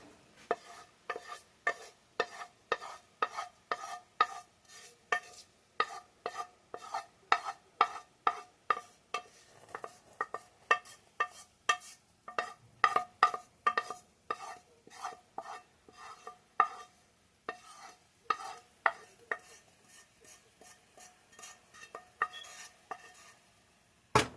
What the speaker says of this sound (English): Let's add our onions to this.